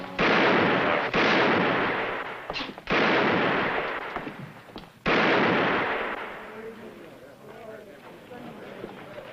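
Repeated loud gunshots ring out from a shooting match on a town street, several sharp blasts with long echoing decays, the last fading into background sound.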